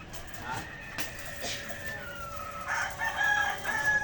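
Chickens in a backyard coop, hens clucking and a rooster crowing at mid-distance, repeated calls rising toward the end over faint background noise.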